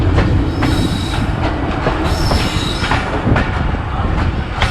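Zakaria Express passenger train at Firoza railway station, heard as a steady loud rumble of rolling railcars with clattering wheels and faint squeals, no talking.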